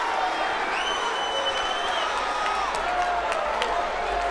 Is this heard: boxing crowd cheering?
yes